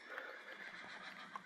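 Horse in a Minecraft game gives a short, faint whinny over quiet hoof clip-clop, brief and alone.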